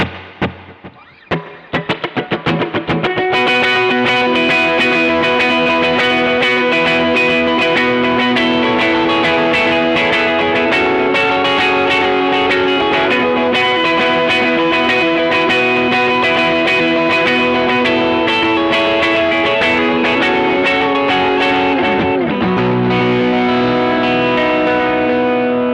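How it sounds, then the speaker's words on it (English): An electric guitar played through a NUX Cerberus pedal with delay and reverb engaged rings out in loud, shimmering repeated notes with echoing trails that build after a few picked notes and continue steadily. "So that's the delay and the reverb."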